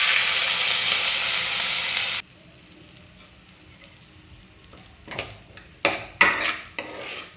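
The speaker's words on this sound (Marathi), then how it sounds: "ह्या तुपामध्ये सर्वात अगोदर आपल्याला जे आपण तांदूळ भिजवून घेतले होते ते असे छान लालसर होईपर्यंत परतून घ्यायचे आहेत" Soaked rice stirred and roasted in ghee in a pan, a loud close sizzle that cuts off, then quiet followed by scraping spoon clanks against the pan.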